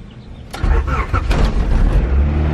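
A car engine cranks and catches, then settles into a loud, steady low rumble that continues to the end.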